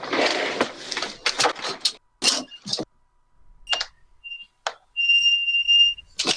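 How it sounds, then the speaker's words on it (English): After several sharp clicks and clatters, a fire alarm gives short high electronic chirps, then a longer steady piercing tone, fairly loud and close. "The fire alarm's going off."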